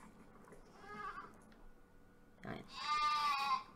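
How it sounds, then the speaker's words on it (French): Sheep and goats bleating in the farming game Medieval Dynasty, a few nasal calls close by, the clearest and loudest near the end, over low ambient game sound with no talk. "Ici, donc, on a les moutons aussi et vous avez les chèvres."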